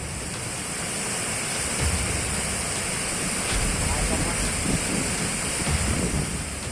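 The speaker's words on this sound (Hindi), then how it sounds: "नदी का ये डरावना रूप दक्षिण में तमिलनाडु के शहर कोयम्बटूर का है।" A flooded river in Coimbatore, Tamil Nadu, rushes past in a loud, constant roar mixed with wind buffeting the microphone, steady throughout with no clear voices.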